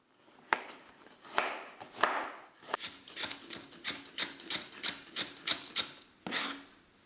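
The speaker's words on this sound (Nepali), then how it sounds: "अब हामी स्प्रिङ अनियन र क्यारोट पनि काट्न गइरहेका छौँ त्यसरी नै लामो लामो गरेर" A knife chops spring onions and carrots into long strips on a board, a few scattered strokes giving way to a steady rhythmic series of crisp chops, close and fairly quiet, no voices.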